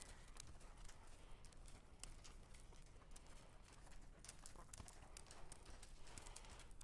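A horse trots forward on soft footing, its hooves clip-clopping in a steady, even rhythm. The sound is faint and distant, with light outdoor background noise around it.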